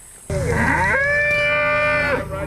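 A Red Poll cow on a 2.5-acre pasture gives one loud, close, sustained moo that starts sharply, holds for nearly two seconds and then drops away.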